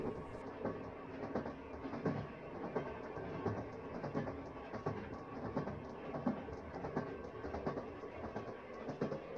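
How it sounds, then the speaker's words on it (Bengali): A long-distance express train from Howrah runs at speed through the night, a steady rumbling roar with rhythmic clacking of wheels over rail joints, heard from inside the carriage. "রাতের নিস্তব্ধতাকে বিদীর্ণ করে আমাদের বিশাল দানব ইঞ্জিনটি তখন কত গ্রাম শহর জনপদ অতিক্রম করে"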